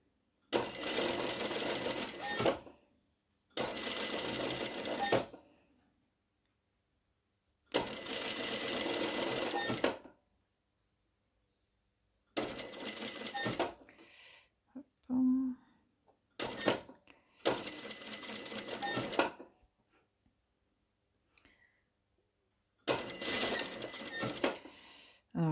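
Sewing machine topstitching a shirt edge about 3 mm from the fold, running in repeated loud bursts of two to three seconds separated by pauses, with brief handling noises between runs and no talking.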